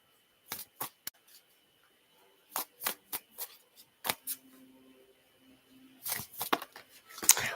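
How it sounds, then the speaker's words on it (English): Sharp, papery snaps and riffles of tarot cards being shuffled in scattered bursts, fairly close and clear, with a denser flurry near the end; no voices. "Just shuffling some cards."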